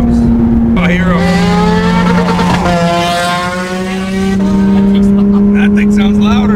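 A loud Porsche 911 Turbo S engine roars close by, its pitch shifting as it revs and draws near, with voices talking over it.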